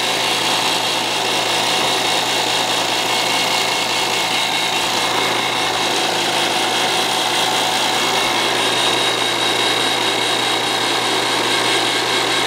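An HVAC vacuum pump, a commercial-style unit, runs steadily and loudly up close with a constant droning motor hum and hiss that never changes.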